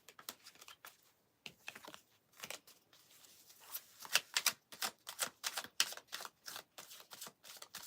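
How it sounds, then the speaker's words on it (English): Tarot cards are shuffled in quick, papery bursts, a rapid riffling and crisp flicking that repeats in uneven clusters close to the listener. "let's get these cards together. Get a good shuffle in."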